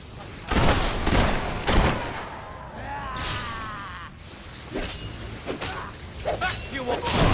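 Gunfire in Fable III on Xbox Series S comes as several sharp, loud blasts scattered through the scene, mixed with whooshes and game effects while people talk over much of it.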